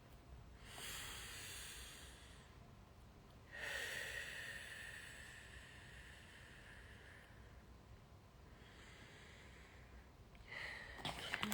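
A slow, deep breath drawn in and let out, a soft airy hiss rising and falling through a long inhale and exhale, close and quiet with no talking.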